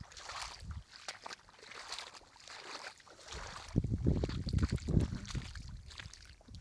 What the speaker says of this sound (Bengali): সব জোয়ারের জল কি স্পিড উপরে উঠছে।